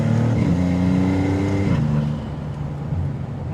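A Maserati MC20 Cielo rear-wheel-drive supercar accelerates hard, its engine note loud and close in a rising, strained roar that eases slightly after a shift partway through.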